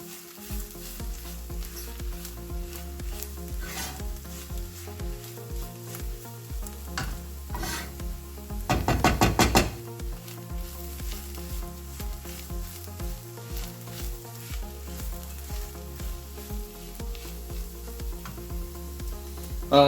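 Masala sautéing in oil for a Kerala chicken curry gives a soft, even sizzle with a brief louder burst of stirring near the middle, all under a constant musical backing.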